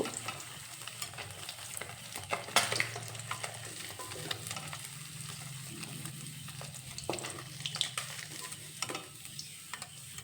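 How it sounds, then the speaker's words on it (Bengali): Parshe fish frying in hot oil in a wok, a continuous crackling sizzle with intermittent sharp spatters and a scrape or two of a spatula, moderately quiet and close, no talking. "এবার মাছের এই সাইডটাও খুব ভালোভাবে ভেজে নেব"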